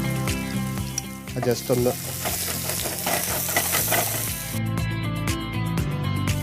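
Ginger and garlic fry in hot oil with a busy crackling sizzle and clinks of a utensil against the pan, close and steady, while someone speaks briefly over it.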